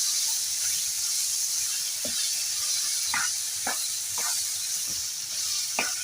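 Chicken wrap filling cooks in a pan with a steady hiss, broken by a few sharp crackles and pops.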